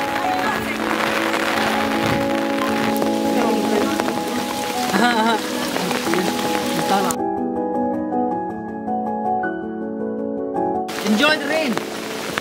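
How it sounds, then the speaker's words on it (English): Rain falls in a forest in Meghalaya with a constant soft hiss of drops, while people talk and sing over it throughout. "We should enjoy the rain."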